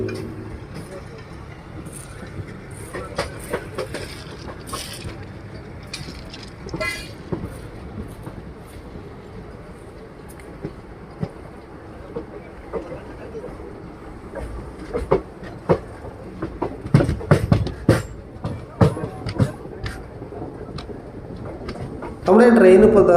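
An intercity train from Coimbatore to Tirupati rolls slowly past track maintenance work, with a steady low rumble and scattered clicks and clanks that thicken toward the end, and voices talking at times.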